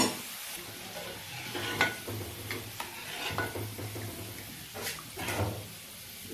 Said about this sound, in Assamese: 4-5 মিনিট সময় এনেকৈ ভাজিবলগীয়া হয়।